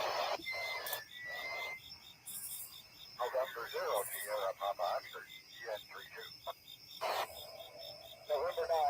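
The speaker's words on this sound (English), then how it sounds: "This is on board the ISS as it's passing overhead." A radio transmission relayed from the International Space Station passing overhead comes through as crackly, chirping radio noise with bursts of static and garbled transmitted voices, with a continuous insect-like hiss underneath.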